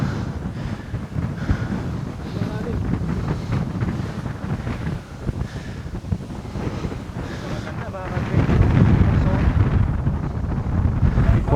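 Strong wind roars and buffets the microphone without letup, growing rougher toward the end, with people talking beneath it, on Mt. Williams in San Jose, Nueva Ecija.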